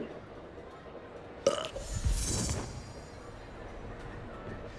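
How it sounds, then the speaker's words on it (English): A loud, drawn-out burp comes from a character as a Polyjuice potion wears off in the video game Hogwarts Legacy, following a sharp click, set over quiet background ambience. "Is that why I'm burping?"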